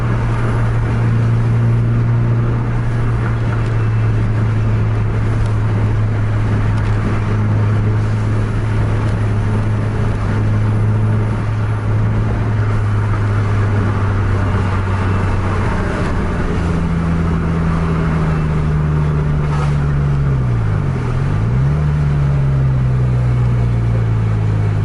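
A passenger bus races down a highway at 115 km/h during a contest with rival buses, with a steady, loud engine drone and road rumble from inside the cabin that holds for the full length, and the engine tone shifts pitch near the end.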